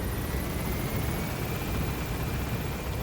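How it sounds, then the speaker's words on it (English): A helicopter in a video game spools up for takeoff: a dense, steady, loud roar of rotor and engine noise that holds evenly throughout, with no talking. "Hey, just helicopter. You can take off now."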